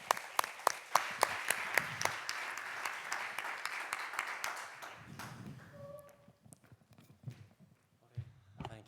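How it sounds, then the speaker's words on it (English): Audience applause for a panel of experts at an accessibility conference, dense clapping for about five seconds before thinning out into scattered claps, with faint voices murmuring underneath. "please join me with a big round of applause for each of them"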